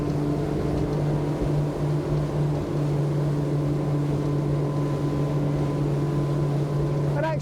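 A Schaefer V33 motorboat runs smoothly at speed, around 40 knots, on a sea trial, giving a steady, loud, even engine drone over continuous water and wind rush that barely changes throughout.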